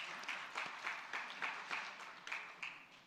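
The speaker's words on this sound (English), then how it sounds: "can we have a big round of applause for our sponsors" A conference audience applauds its sponsors with rolling, fairly steady clapping that swells in waves, heard at a moderate distance with no talking over it.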